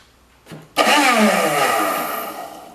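A 1970s Nova snow blower engine being cranked to start: a short knock, then a loud, close mechanical whir that rises quickly and slowly tapers off over about two seconds.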